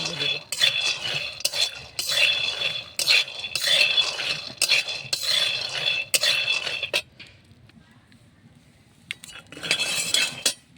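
Raw peanuts dry-roasting in a pan, a spoon repeatedly clinking and scraping the metal in busy bursts, close up, with a quieter pause near the end before stirring resumes.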